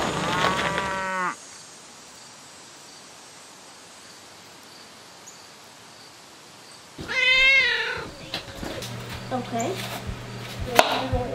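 A dairy cow on a farm with calves lets out a loud moo, then after a long quiet stretch another drawn-out moo follows, with clattering farmyard noises afterward.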